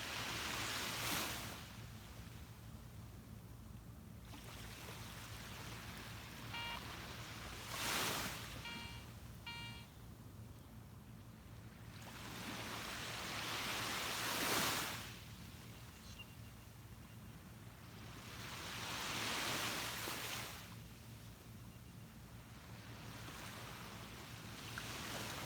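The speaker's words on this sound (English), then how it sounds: "soak in a few more sounds of the waves crashing the shoreline," Ocean surf rolls onto a beach shoreline at sunrise, broad washes of waves swelling and fading roughly every five to six seconds, with steady wind noise and a faint low hum underneath.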